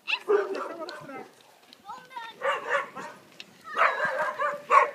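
Dogs bark and yip in short bursts nearby on a street while people talk over them.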